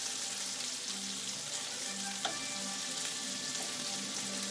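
Pancetta fries in a pan for spaghetti carbonara with a steady, even sizzle and crackle, close and constant throughout, with only a few faint pops and no speech.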